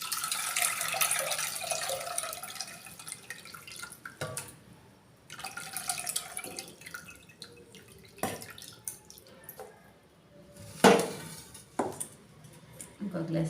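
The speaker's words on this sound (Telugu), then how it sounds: "ఇంకో గ్లాస్ వాటర్ పోసుకున్నాం." Water is poured from a glass into a pot of tomato and tamarind rasam, heard as several intermittent splashing, trickling bursts separated by brief quiet gaps, close and moderately loud.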